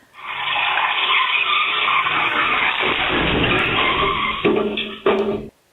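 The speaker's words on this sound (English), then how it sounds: "As an out-of-control stolen car almost brought down a balcony at Glebe in the inner west," A stolen BMW skids out of control on a Glebe street in Sydney's inner west, a loud sustained tire squeal lasting several seconds, ending in sharp bumps and a sudden stop.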